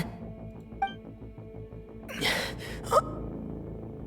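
A game character gasps sharply for breath, two or three quick breathy intakes over a low droning musical background, close and clear.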